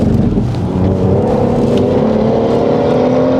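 A BMW, an M140i or M4, accelerates on a race track, heard from inside. A loud, steady engine drone climbs gradually in pitch with road and wind roar underneath, with no talking.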